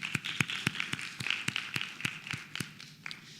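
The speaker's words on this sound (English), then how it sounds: "Round of applause." Sharp, evenly spaced hand claps ring out in a steady rhythm, sounding like a small group applauding at the BSBMUN 7 Model UN conference closing ceremony.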